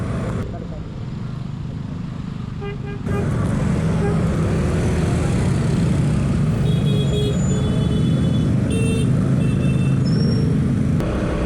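A road jammed with slow traffic: steady engine rumble and low roadway noise, with a jump in level partway through and faint higher tones over it, heard from close by.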